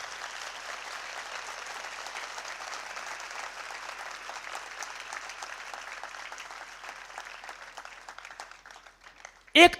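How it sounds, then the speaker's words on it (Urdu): Congregation in a Catholic church applauding loudly at a New Year night Mass, a sustained dense wash of clapping that holds for the whole stretch before trailing off near the end. "تو خداوند کی شکر گزاری کے اظہار کے طور پر زوردار تالی جائیں۔"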